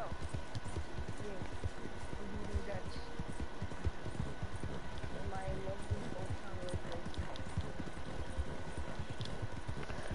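Rapid hoofbeats of a galloping horse pound steadily throughout, mixed with game noise and a busy background, in Red Dead Redemption.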